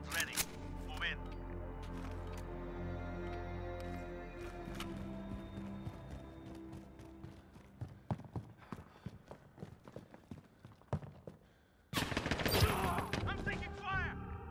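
Gunfire in Call of Duty Modern Warfare 2v2 multiplayer: scattered sharp shots and bursts through the clip over a steady game music bed, with spoken game voice lines and a loud burst of firing near the end.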